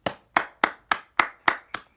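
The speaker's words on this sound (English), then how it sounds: "I think I'm the only person clapping." One person claps alone, seven crisp, close hand claps at a steady, even pace of roughly three or four per second, with nothing else sounding.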